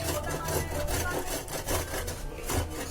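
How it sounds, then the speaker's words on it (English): Fresh ginger rubbed against a kitchen grater in repeated rasping strokes, a steady scraping rhythm heard close and fairly loud with no talk over it. "So I finally decide to grate it"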